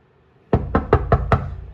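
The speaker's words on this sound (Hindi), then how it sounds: "एक काम करता हूँ, दरवाज़ा नॉक करता हूँ।" Five quick knocks rap on a house door in a steady, evenly spaced burst, close and loud against a quiet room with no voices.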